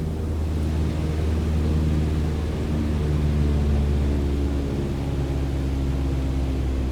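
Propeller aircraft engine holds a steady, droning hum at cruise power in Microsoft Flight Simulator, a constant tonal roar with airflow noise and no talking.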